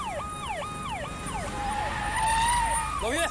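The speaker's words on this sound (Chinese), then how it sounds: "还给警报呢？" A police-style vehicle siren wails in a fast repeating up-and-down pattern, fairly close and steady over road noise, shifting to a long rising tone near the end.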